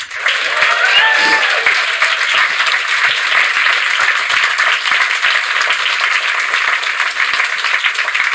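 A live audience at the Edinburgh Fringe applauds and cheers for a guest, with dense, sustained clapping that holds steady and a few voices rising through it near the start.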